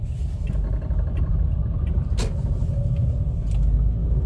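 Automatic car slowing and making a U-turn with the left indicator on, heard from inside as a steady low engine and road rumble, with faint clicks and a brief rattle partway through.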